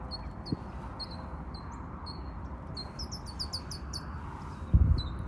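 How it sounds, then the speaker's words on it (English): Small birds chirp in quick, high bursts throughout, moderately distant, over a quiet outdoor background with a brief louder rustle near the end. "You can hear all the little birds chirping."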